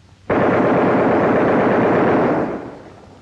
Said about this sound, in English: As soon as he gets in range, fire a 2-second burst.